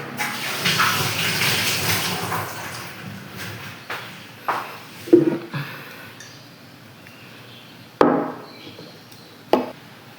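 Hands being washed under a running tap, a steady water rush with scattered splashes and a few sharp knocks against the sink, close by with no talk.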